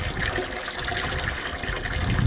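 Water streams from the outside faucet of a Keystone Outback 230RS camper trailer into a bucket during winterizing. The flow is a steady, close gushing rush with no talk over it.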